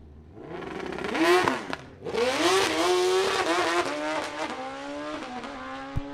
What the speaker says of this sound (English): He'll roll back the throttle, get back into it, take it out the quarter mile.